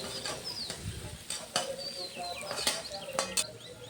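Chopped beans and carrots frying in a pan for Bangla egg fried rice are stirred, giving a steady sizzle broken by several sharp scraping strokes of the spatula, close and fairly quiet.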